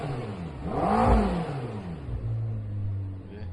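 A 650 motorcycle with a freshly swapped exhaust revs hard nearby, its engine note climbing and falling in a couple of throttle blips before settling into a rumbling idle.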